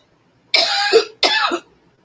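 Two harsh allergic coughs with a throat-clearing quality come in quick succession, close and loud against silence.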